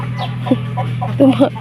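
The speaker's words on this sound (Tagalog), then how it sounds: "yung isang manok" A chicken clucks several times in quick, soft bursts close by, over a constant low hum.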